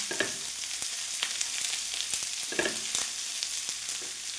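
Sliced onions sizzle steadily in a hot pan while being cooked for a banana-stem and green gram stir-fry, with a constant hiss broken by a few sharp scraping clicks of stirring.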